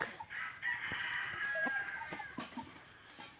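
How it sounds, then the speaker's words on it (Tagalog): Chickens cluck and a rooster crows nearby, with scattered barnyard clatter and no talking. "mga manok."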